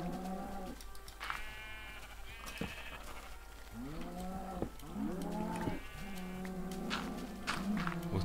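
Sheep bleat repeatedly in the block-built game world of Minecraft, several clear baa calls close by with short gaps between them and no talk.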